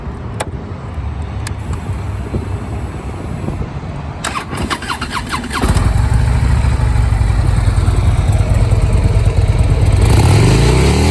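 A 2016 Harley-Davidson Road King with Screaming Eagle exhaust cranks over and fires up, settling into a loud, steady, throbbing idle close by after a few seconds of starter whir and clicks.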